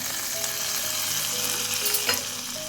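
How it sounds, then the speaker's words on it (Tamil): A hot tempering of mustard seeds, fenugreek, cumin, asafoetida, curry leaves and chilli powder hisses with a dense, loud, continuous sizzle as it is poured into a mixed-vegetable sambar. "கடுகு வெந்தயம் ஜீரகம் பெருங்காயத்தூள் கருவேப்பிலை மிளகாத்தூள் போட்டு தாளிச்சிருக்கேன் இதை கொட்டிக்கலாம்"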